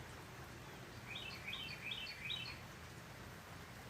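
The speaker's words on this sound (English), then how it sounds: "There's a bunch of birds in that magnolia tree." Several birds in a magnolia tree chirp in short bursts of quick high tweets, faint against a steady background of rain, with no talk.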